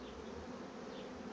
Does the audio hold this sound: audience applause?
no